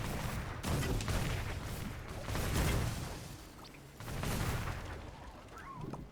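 Firecrackers bursting in a video game, a run of sharp crackling pops in several loud clusters with brief lulls between, no talk over them.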